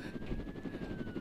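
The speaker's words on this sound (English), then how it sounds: "I want to get in one of them helicopters." Helicopter in a Roblox prison escape game, a steady rhythmic rotor chop with a whining tone, close and continuous through the short moment.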